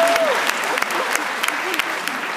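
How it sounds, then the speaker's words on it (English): An audience at an entrepreneurship talk in Toronto bursts into a round of applause, a dense sustained clapping from a large crowd with a voice briefly heard over it at the start. "You guys give these people a big round of applause."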